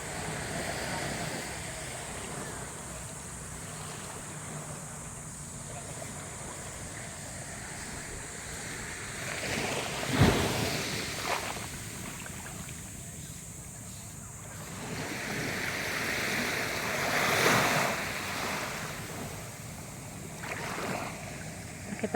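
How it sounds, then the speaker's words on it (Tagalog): Sea water washing along a beachfront in Calauag, Quezon, a soft continuous rush with swells building around the middle and again near the end, mixed with light wind buffeting the microphone. "Kitang-kita natin yung ganda ng agos ng tubig, oh."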